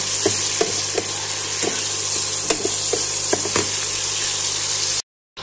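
Paneer butter masala sautéing in a pan, a loud, dense sizzle with a low steady hum beneath and repeated spoon clicks while stirring, then a brief silence near the end.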